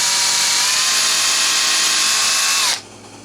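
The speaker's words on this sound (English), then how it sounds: "this hole that I'm trying to drill" A power drill whines loudly at a steady high pitch while boring a hole in a Guild JF65-12 guitar fretboard, then stops abruptly, leaving a quiet hum.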